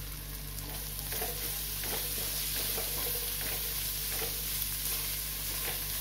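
Masala for chole matar frying in a pan: a steady, even sizzle with soft, intermittent scraping as it is stirred, close up and with no talk.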